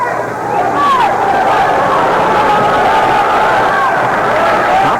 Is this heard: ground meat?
no